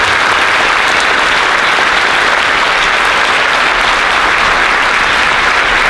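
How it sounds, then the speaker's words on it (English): A concert audience gives an Air Force band member a round of applause, dense, loud and continuous clapping with no break for the whole stretch. "we can go ahead and give her a quick round of applause"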